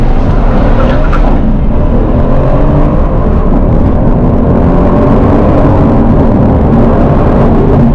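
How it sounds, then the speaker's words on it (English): A 2018 Mercedes-AMG C63s sedan accelerates hard at full throttle, a loud, deep continuous engine roar with rising tones heard from inside the car, no speech. "I touch this and then I bury the throttle"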